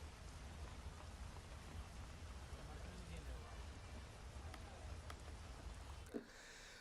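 Heavy rain pours down in Pune, a dense, steady hiss of drops striking surfaces throughout, with a brief knock near the end.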